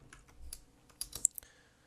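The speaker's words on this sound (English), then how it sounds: "if I type in a ticker Amazon and apply it" Stock ticker keys tapped on a computer keyboard, a short quiet run of soft clicks ending in a few sharper keystrokes, close and alone without talk.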